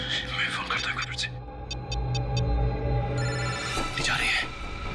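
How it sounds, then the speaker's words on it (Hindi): A phone rings in short repeated electronic bursts, a quick series of four tones, heard over continuous speech and a low hum in a tense indoor crime-drama scene. "मैं फोन करता हूँ फिर से।"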